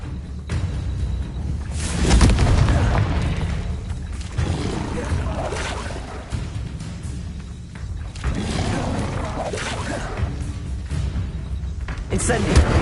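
Repeated booming Confringo spell explosions in Hogwarts Legacy, loud thuds and crackling blasts spread across the stretch, mixed with other game effects and a voice calling out between them.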